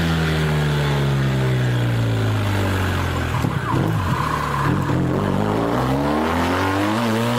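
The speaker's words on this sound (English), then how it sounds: "Oh, the acceleration sound." A racing car's engine revs and accelerates loudly, its pitch sweeping down and climbing again through gear changes, sustained close-up with faint tire noise and no talk.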